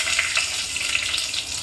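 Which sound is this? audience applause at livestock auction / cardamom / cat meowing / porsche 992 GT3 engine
cardamom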